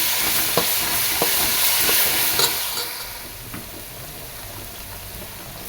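Green chillies and ginger garlic paste sautéed in a pan, with a steady loud sizzle of hot oil and a few spatula scrapes, the frying hiss easing slightly in the second half.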